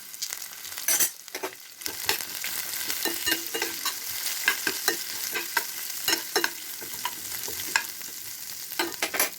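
Spice paste frying with whole cumin, mustard seeds and radhuni for mutton kosha sizzles loudly and close, broken by repeated scraping stirs and sharp spattering crackles across the whole stretch.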